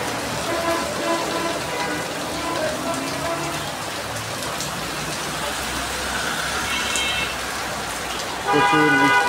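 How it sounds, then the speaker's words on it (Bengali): A heavy morning downpour on a Bangladeshi street makes a dense, steady, loud hiss of rain beating on surfaces throughout, with faint vehicle horn tones and traffic rising near the end. "প্রচুর বৃষ্টি হচ্ছে, প্রচুর বৃষ্টি, ঝুম বৃষ্টি কাকে বলে"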